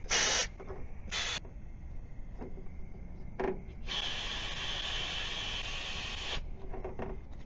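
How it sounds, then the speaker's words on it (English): Compressed air blasting through the EVAP filter pipe of a GMC Sierra / Chevrolet Silverado pickup: a few short hissing bursts, then one long steady rushing blast of about two and a half seconds, close and loud, with no talk. "I'm gonna blow compressor in this side of the pipe"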